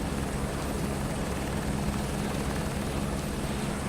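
A helicopter takes off from a helipad in Microsoft Flight Simulator 2024, its rotor and engine making a loud, steady, even roar with no break throughout.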